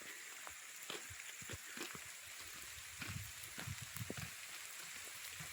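Light first rain of the season falling outdoors on muddy ground near hills, a faint continuous patter with scattered soft drops and small splashes throughout.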